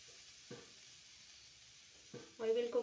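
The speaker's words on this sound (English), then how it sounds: "I will take a frying pan, add some oil in it and add chopped onion" Faint steady sizzling of chopped onion frying in oil in a frying pan, with a couple of soft clatters and a brief voice near the end.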